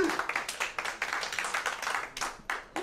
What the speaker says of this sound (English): applaud for the voice in the sky